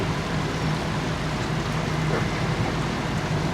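Steady rain falls during a journey from Lahore to Rawalpindi, a dense, even hiss of drops that holds constant throughout at moderate loudness, with no voices.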